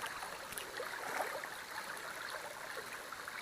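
Water from a babbling brook flows steadily and continuously, with a soft rushing and trickling texture that stays at an even, moderate level with no voices.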